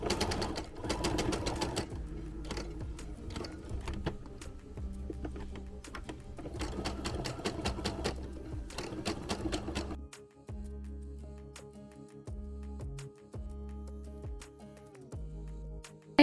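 A home sewing machine runs in steady bursts stitching a quarter-inch seam on a small plush toy, its fast mechanical whir stopping and starting with quieter pauses between runs, no talking.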